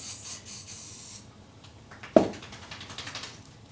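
Spray paint hissing out of an aerosol can, a broad airy hiss for about a second, then a sharp click and a few short faint bursts, fairly quiet and without talk.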